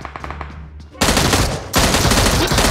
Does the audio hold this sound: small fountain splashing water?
no